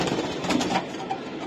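Pigeons in a breeder's loft, a pair of young birds among them, coo softly and continuously at close range, a low murmuring texture with no talk over it.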